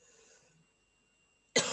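A single sharp cough bursts out loudly at the very end after near silence with faint background hum.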